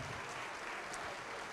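A church congregation keeps up a steady wash of clapping, many hands blending into an even, fairly distant patter that holds at constant level, with a faint voice in the background.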